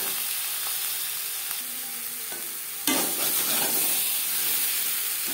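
Spices and potatoes for aloo dum frying and stirred in a pan, a soft sizzle with light scraping that jumps to a louder, brighter hiss and crackle partway through, close and continuous.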